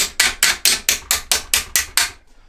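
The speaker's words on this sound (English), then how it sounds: "hammer that through" Nine sharp, evenly spaced hammer blows drive a pin through stacked washers on a mesh seat mount for a tree-stand seat, each strike loud, close and metallic, followed by a brief quiet tail.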